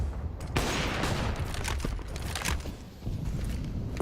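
Rapid bursts of gunfire in a Counter-Strike match, several cracking shots in quick succession over a steady background wash of game noise.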